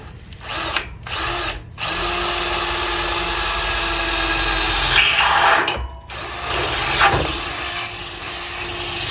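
Power drill bores holes into an aluminum roof rack, a loud, sustained whining buzz in several bursts separated by short pauses, with no talking.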